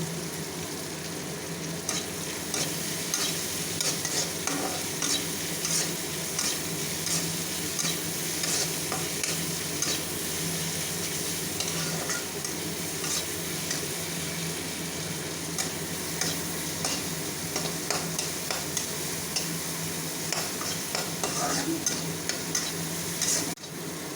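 Onions frying in a pan and being stirred, a steady close sizzle with scraping stir strokes throughout, no voices.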